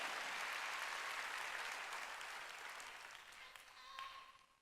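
A church congregation during a Korean sermon bursts into dense, loud clapping that gradually tapers off, with a brief tonal sound near the end as it dies away.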